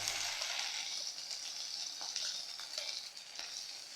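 Onion frying in a pan with ginger-garlic and cumin paste, a soft, steady sizzle with light scraping stirs now and then, fairly quiet and close.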